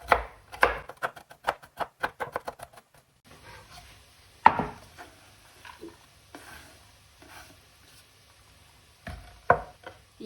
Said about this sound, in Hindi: कोई बड़ा पीस होगा तो वो छोटा हो जाएगा इस तरह कटिंग करने से।